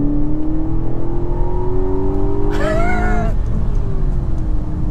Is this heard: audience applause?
no